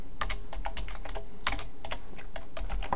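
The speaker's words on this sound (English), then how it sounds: "Sorry, I cannot type today." Rapid typing on a computer keyboard while coding a website, dense irregular key clicks close up with no talk.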